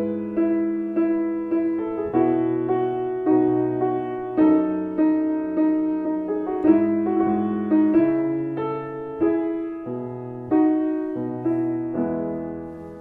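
Opening tenor solo that follows the overture in Handel's Messiah, with a sustained singing voice over string accompaniment in a clear, steady phrase, no talking.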